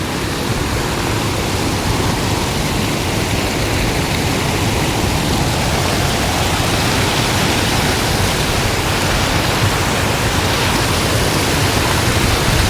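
Water gushes and roars over a dam on the road to Theni, a steady, loud, broadband rush that holds unbroken and close throughout, with no voices over it.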